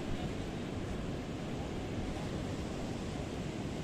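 Sea waves crash on the rocky coastal cliffs of Morro de São Paulo, throwing up spray. A dense, constant roar of surf fills the scene with broadband wash and no clear breaks.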